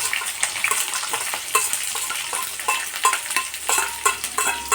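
Crushed garlic and onion frying in a pan for a red amaranth stir-fry, a steady broadband sizzle close by with scattered clicks from stirring, no voices.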